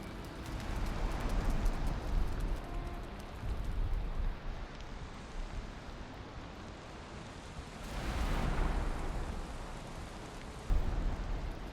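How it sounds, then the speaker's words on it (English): Rain falls on a roof in the survival game Valheim, a soft, steady wash of noise that is faint throughout and swells gently twice. "this is the first time it's rained since I did the roof"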